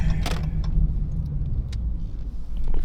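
A car rolls up and slows at a gas station, its engine rumbling low and steady at close range, with brief clicks and a faint jingle of keys over the hum and no talking.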